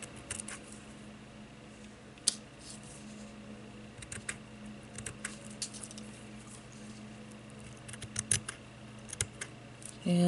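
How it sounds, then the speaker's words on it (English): Small scissors snip off fuzzy fibers along the edges of a craft project, faint and close, with scattered light clicks and snips over a quiet room hum. "I'm just cutting off all the little fuzzies"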